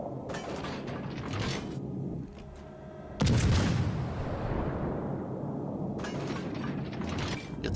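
World of Warships Legends naval guns open fire on the cruiser Suzuya: one heavy, close boom bursts out midway and rolls into a long rumbling tail over a steady mechanical background hum, with no talking.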